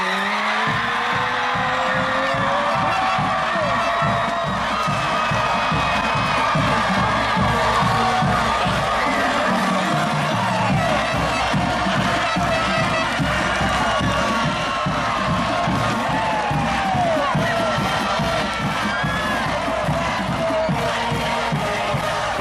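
Big crowd cheering at a high school homecoming football game, a dense sustained roar of voices with shouts and whoops rising and falling throughout, loud and continuous.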